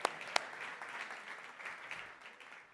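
Faint applause from a gala audience, steady soft clapping with a couple of sharper claps near the start, heard from a distance.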